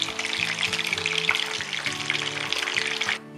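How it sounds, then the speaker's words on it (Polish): Cabbage rolls fry in hot oil with a steady, dense sizzle and crackle throughout, a low steady hum beneath, ending abruptly just before the close. "Na rozgrzany olej wkładamy gołąbki i obsmażamy je z dwóch stron"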